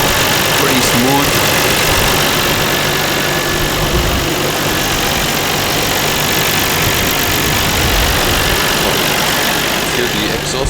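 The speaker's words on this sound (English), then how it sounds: "Hear the exhaust noise." A completely stock Nissan Skyline R34 GT-R V-spec II Nür idles with a quiet, even exhaust burble, heard close and constant under a voice.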